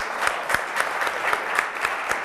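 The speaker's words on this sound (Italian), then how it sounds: "Quindi un applauso a Luciano Borin." Steady audience applause for a contestant on a televised village quiz show, moderate clapping with a few sharper claps standing out rhythmically throughout.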